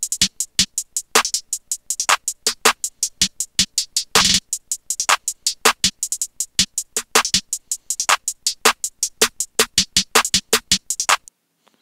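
A programmed percussion loop from a GarageBand iOS beat with a crisp, dry perc sound struck in a fast, steady syncopated pattern, bright and punchy, repeating evenly for about twelve seconds with no talking.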